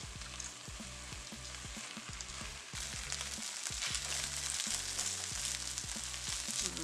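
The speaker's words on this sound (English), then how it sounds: "And we are sauteing." Spinach sautéing in a hot pan for a Caribbean chicken holiday feast, a continuous close sizzle and fry that grows a little louder partway through, with no talk over it.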